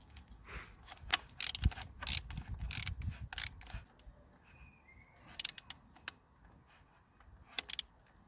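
Ratchet clicking as thermostat housing bolts are tightened on a Ford S-Max with a stuck thermostat: bursts of close, sharp metallic clicks in short runs, pausing between strokes, with a few more clicks near the end.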